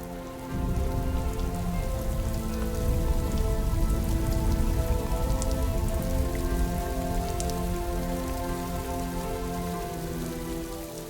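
Heavy rain pours down on the desert of Australia's southern plains, a loud, steady, dense hiss of drops hitting the ground that swells in and holds for several seconds.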